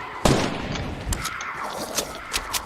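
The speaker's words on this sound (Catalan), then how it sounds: "Ui, he sentit bales i això no m'agrada" Gunfire in the video game Fortnite: a sharp opening shot followed by a rapid scatter of lighter bursts and pops over a dense, noisy game background, loud and close with no talk.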